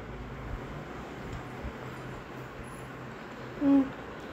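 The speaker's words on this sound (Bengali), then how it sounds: "আমাদের tata boxer superfast express tata নগর জাংশন থেকে লিভ করছে।" The Tata Buxar Superfast Express (18183) pulls out of Tatanagar Junction, giving a steady, fairly faint rolling rumble and hiss throughout, with a short tonal blip near the end.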